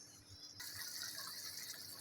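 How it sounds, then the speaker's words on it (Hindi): Water pouring into a pot of spinach and meat, a steady gush that begins partway through and keeps running loud and close, with no voices. "मैंने इसमें 2 कप पानी शामिल किया है और इसको अच्छी तरह से पकाएंगे।"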